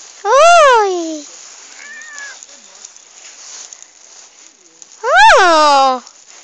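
A cat meows twice, loud and close, each cry a rising-then-falling wail, with a fainter short sound between them and excited voices nearby.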